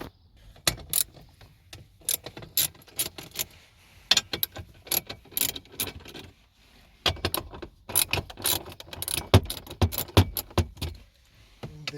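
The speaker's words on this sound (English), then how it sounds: "Now I think I need to remove this too. 1, 2, 3, 4 bolts, all of them 10 millimeter." 10 mm bolts come out on a Toyota Sienna, heard as an irregular series of close metallic clicks and ratcheting rattles with brief pauses between them.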